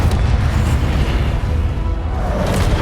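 A Confringo fire spell explodes in the game Hogwarts Legacy, a loud, deep rumbling boom that rolls on steadily for a few seconds.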